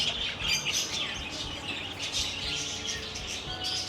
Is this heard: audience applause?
no